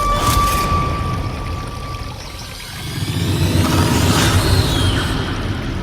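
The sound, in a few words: mountain stream of water flowing down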